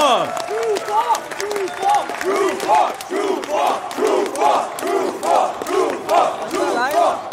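A crowd at a DoKomi 2019 grand final gaming tournament cheering and applauding the winner, with loud waves of clapping and shouting under an announcer's voice speaking over the noise.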